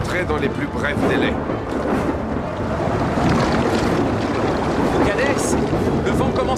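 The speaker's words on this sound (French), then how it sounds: "le vent commence à se déchaîner." Storm wind rising over the Nile near a boat, a dense, roaring gusty rush of air and water noise with no voices, swelling steadily and staying loud throughout.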